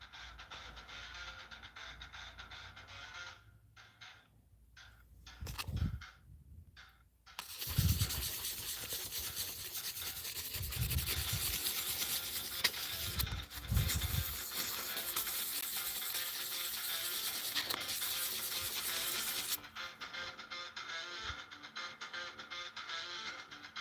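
Hand sanding with sandpaper to buff deep scratches out of a surface: a long, loud, steady rasping scrub runs for about twelve seconds, with a few shorter scratchy strokes before it and quieter rubbing after.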